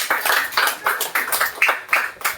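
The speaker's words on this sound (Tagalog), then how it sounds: "Isang malakas na palakpak po para sa ating Panginoon." A church congregation applauds together in rhythmic unison claps, about eight strong, even beats, close and loud with no talking over them.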